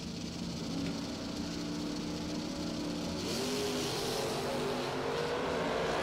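A 1973 Chevrolet Vega drag car runs down the strip at a doorslammer drag racing event, its engine a steady, distant roar that holds throughout with a slight rise partway through, no voices over it.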